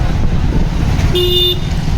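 Busy evening road traffic with a steady engine rumble and a single short car horn toot about halfway through.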